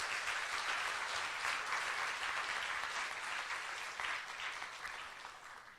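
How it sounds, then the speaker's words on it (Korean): Sustained applause from an audience filling a church at a small memorial concert, a steady dense wash of clapping that holds for several seconds and slowly thins toward the end. "다시 한번 뜨겁게 박수 부탁드리겠습니다"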